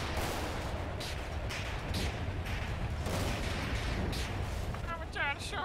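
A dense, continuous roar of heavy booming blasts and rumbling explosions from an orbital cannon in GTA 5 fills the scene, with voices barely audible beneath the chaos.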